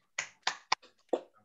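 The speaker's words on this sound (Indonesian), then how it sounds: "Tepuk tangan." A secondary school class clapping hands on command in a quiet room, four sharp, separate bursts of claps close to the listener, with no talking.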